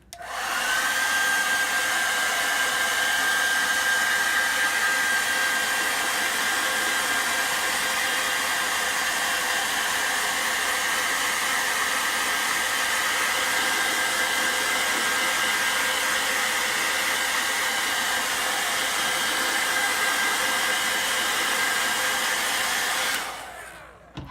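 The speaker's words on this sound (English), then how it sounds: "I'm going to pull out the blow dryer and get it dry" A hair dryer blows steadily at close range, drying wet chalk paste on a craft wreath, a constant loud whooshing whine that runs unbroken before cutting off at the end.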